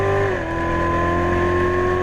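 A Corvette C7 Z06 race car engine roars loudly and steadily from inside the cabin on a racing track, with a brief pitch drop near the start as it shifts up, then holds a sustained drone.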